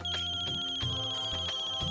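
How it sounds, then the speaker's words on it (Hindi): A phone ringtone repeats in short electronic bursts over a steady high tone, fairly quiet, with no talk over it, in a domestic scene. "बैंक से फोन।"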